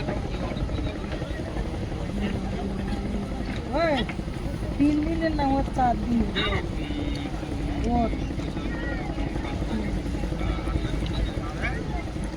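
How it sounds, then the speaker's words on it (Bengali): Luxury boats motor past on the water in the Sundarbans, a steady engine drone under lively talk from people on board, with the hum holding constant throughout. "পিছনে লাইনে অনেক কটা লাক্সারি বোট আসছে"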